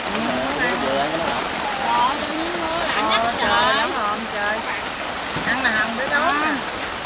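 Rain patters steadily on a Vietnamese strawberry farm, a constant wash of drops heard beneath several people chatting throughout.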